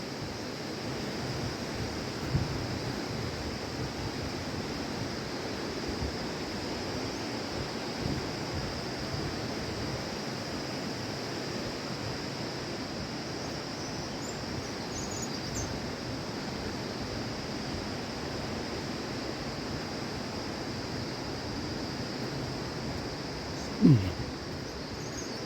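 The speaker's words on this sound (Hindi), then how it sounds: "यहाँ पे इस मोड़ पे जो है नदी की आवाज़ है, ये बड़ा अलग सा एक स्वर उत्पन्न करती है इससे टकरा के चट्टानों से" A river rushes around a bend in the hills at Mori, breaking against rocks in a steady, dense wash of water noise that holds evenly throughout, with one brief knock near the end.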